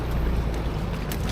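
A motorized boat engine drones steadily at sea off Zambales, a low continuous rumble mixed with wind buffeting the microphone, loud and close with no talk.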